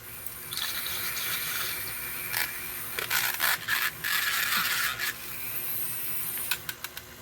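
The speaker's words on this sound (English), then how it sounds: "So we're going to give our mixture here another mix." Shower steamer mixture is stirred and scraped in a bowl, giving steady close scraping and clicking with a few sharper bursts, heard alone without voices.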